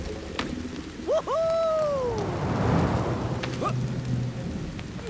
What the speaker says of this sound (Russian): Идет дождик, спускаемся, идем дальше.